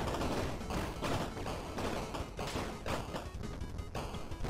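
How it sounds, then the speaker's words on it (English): Shotgun fire in the video game Bleed, heard as a dense, continuous barrage of rapid blasts and thuds under busy game noise, loud and close with no pauses. "Let's try the shotgun."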